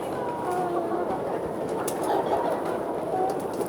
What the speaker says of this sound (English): As you can see, the birds are eating.